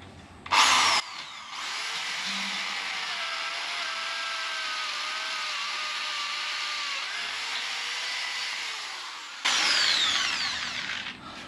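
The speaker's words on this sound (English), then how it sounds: "drill this one out 12mm as well." A power drill bores a hole out to 12 mm in a fabrication job, a sustained whining motor held steady under load for several seconds, bracketed by brief louder bursts at start and finish.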